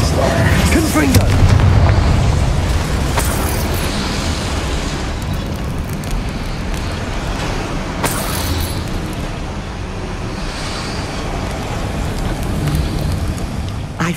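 A booming Confringo spell explosion in Hogwarts Legacy, a loud burst followed by rumbling blasts and a sharp crack midway, with a low roar underneath throughout.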